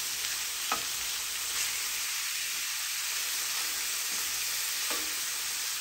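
80-20 ground beef fries in a pan with a steady, even sizzle while being stirred and scraped. A few faint scrapes of the utensil sound through the hiss, with no talking.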